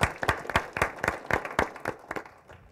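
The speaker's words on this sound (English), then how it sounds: "So we can give them a round of applause as well." A small town hall audience gives a short round of applause, a quick burst of scattered hand claps that thins out and fades within a few seconds.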